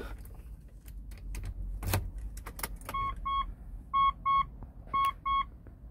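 Metallic jingling and clicks of a key sliding into the ignition of a Mitsubishi Montero, followed by a series of repeated electronic chimes from the dashboard.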